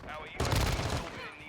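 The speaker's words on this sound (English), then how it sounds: "Gets me with the really rapid fire Glock." A Glock fires in a rapid burst in Call of Duty: Modern Warfare II, a loud crackle of closely spaced shots lasting about half a second, then fading into game noise.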